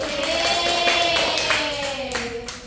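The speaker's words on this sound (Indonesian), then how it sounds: "Tepuk tangan." A classroom of students claps their hands at a teacher's prompt during a microteaching lesson, a short run of rhythmic claps mixed with young voices chanting along.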